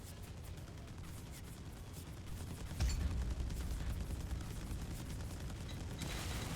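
Upgraded aircraft machine guns fire in the Wings of Glory dogfighting game as a continuous rattling fusillade over a low engine rumble, swelling louder partway through.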